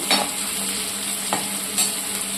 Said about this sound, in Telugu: సన్నగా కట్ చేసిన ఆనియన్ యాడ్ చేసుకోవాలి